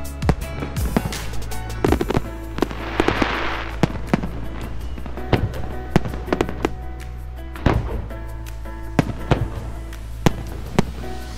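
New Year fireworks display in Norfolk or Suffolk, with repeated sharp bangs and crackles at irregular intervals, some nearer and louder, over a steady low background rumble from a watching crowd.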